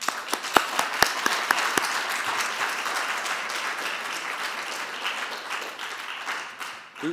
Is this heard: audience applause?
yes